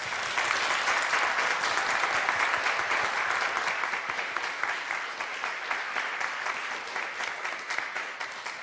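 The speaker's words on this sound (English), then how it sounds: "let's applaud to our speaker" Audience applauding a speaker at a Cambridge Union teach-in, dense sustained clapping that fills the room and slowly thins toward the end, no talk over it.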